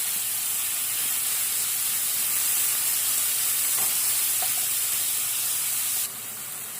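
Chopped onion seasoned with salt and pepper sizzles steadily in rendered fat from zucchini cores, a dense continuous frying hiss close up that eases slightly near the end.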